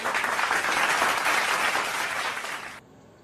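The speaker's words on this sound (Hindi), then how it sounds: "जोरदार तालियां बजाकर उनका सम्मान कीजिए" Loud, dense applause from the audience at a Hindi poetry recital honoring a poet, many hands clapping steadily before cutting off abruptly near the end.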